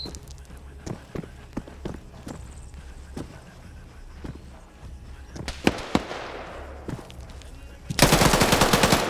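A PKP machine gun fires in a close-quarters firefight in a video game, with scattered single shots and footsteps, then a loud sustained burst at the end.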